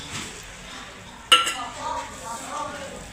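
A spoon stirs almonds and cashews into carrot halwa in a pan, giving one sharp metallic clink followed by soft scraping and shuffling, fairly faint.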